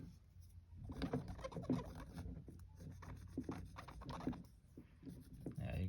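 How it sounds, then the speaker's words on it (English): Scrubbing dirt off the contacts of a blinker switch from a P2-platform Volvo, a steady rubbing and rasping at close range with speech over it. "on this side, scrub a little bit harder, because this is where most of the issue is"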